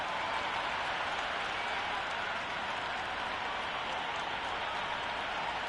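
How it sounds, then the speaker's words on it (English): A stadium crowd in the cricket video game Cricket 26 roars and applauds before the first ball, a dense, steady wash of cheering and clapping at moderate level, unbroken for the whole stretch. "The crowd are making a heck of a lot of noise even before the first ball's been bowled."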